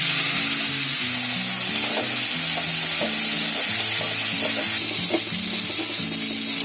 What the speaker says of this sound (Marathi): तोपर्यंत आहे ना इथे कांदा पण फ्राय होतोय.